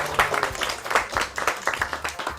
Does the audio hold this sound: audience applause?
yes